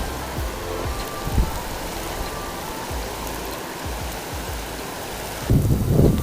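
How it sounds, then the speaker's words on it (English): Hail pelts an angler on the River Lathkill in Derbyshire in early spring, a dense steady hiss of hailstones with scattered patters, swelling louder near the end. "It is absolutely pummeling me with hail at the moment"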